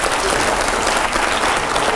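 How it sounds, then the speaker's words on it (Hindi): Studio audience applause on a Hindi television news debate show, with dense, loud and steady clapping that fills the whole stretch at an even level. "तालियां तो हो जोरदार।"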